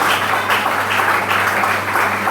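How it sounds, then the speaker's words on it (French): A church congregation claps together in sustained, dense applause that fills the room, steady and loud from start to finish with no voices standing out above it. "Nous applaudissons Jésus"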